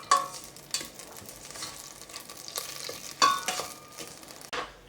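Butter, caster sugar and cinnamon sticks melting together in a pan over low heat, giving a soft steady sizzle broken by a few sharper scraping clinks from stirring, with no talking.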